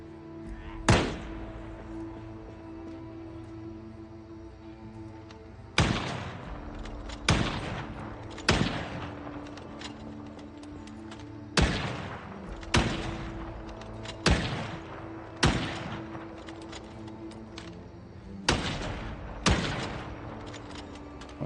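M16 rifle gunfire in the Project Zomboid video game, sharp single shots and short bursts spaced a few seconds apart, loud and close against a low steady background hum, with no voices.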